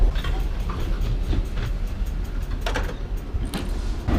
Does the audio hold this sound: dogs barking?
no